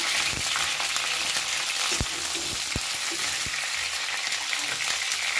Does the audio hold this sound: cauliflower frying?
yes